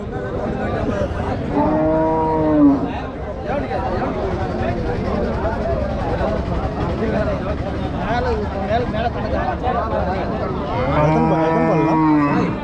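Cows low loudly at a busy cattle market in Kundarapalli, two clear moos rising above a constant crowd babble and people talking close by.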